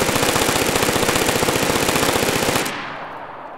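HK416 rifle in DayZ firing one long full-auto burst of rapid, evenly spaced loud shots, cutting off abruptly and leaving a short fading tail.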